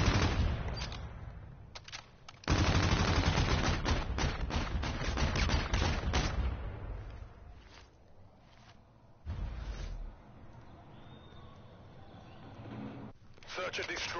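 Video game gunfire in a search-and-destroy match, bursts of rapid automatic shots, loud and dense at first, thinning into sparser fire, with a voice talking over parts of it.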